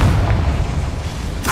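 Confringo fire spell blasting in the Hogwarts Legacy video game: a loud, sustained low booming rumble from the impact, followed by a brief brighter burst at the end, no voice.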